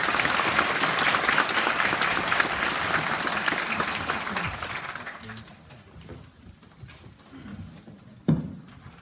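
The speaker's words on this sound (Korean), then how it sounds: "힘찬 박수로 맞이해 주십시오" Audience at a public hearing on emergency medical technician duties gives strong applause to welcome a professor presenter; dense, loud clapping for about five seconds, then dwindling to scattered claps and a sharp knock near the end.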